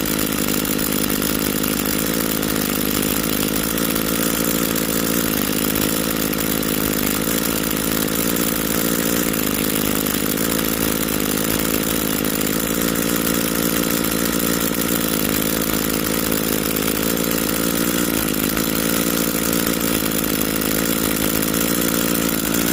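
Small two-stroke engine of an Echo SHC-225S hedge trimmer, a used unit, running continuously at a loud, steady buzzing drone close up with no speech.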